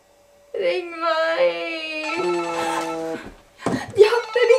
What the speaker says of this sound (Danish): Ja, det ringer! Det ringer!